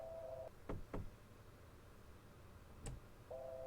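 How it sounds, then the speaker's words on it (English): Several sharp knocks on a wooden door in the point-and-click adventure game Kathy Rain, a close pair early on and a single knock later, set between stretches of steady background music. "Guess we could knock on the door again."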